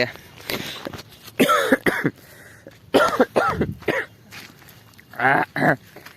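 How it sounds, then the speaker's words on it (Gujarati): Several harsh, close coughs in bursts, separated by short quiet gaps, from a person sick with a cough and cold. "મને તો ઉધરસ જ બહુ વધારે થઈ ગઈ છે"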